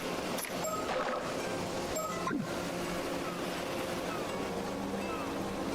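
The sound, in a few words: ocean waves and crowd murmur in a visual novel game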